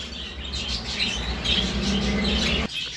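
Pet lovebirds, a grey-turquoise male kept with a green female among aviary rosellas, chirp and tweet in quick, fairly faint bursts over a steady background hum.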